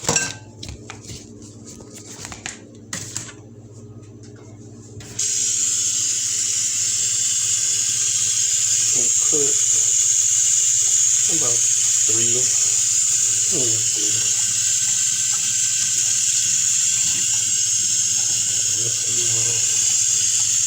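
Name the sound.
rinsing dates under running tap water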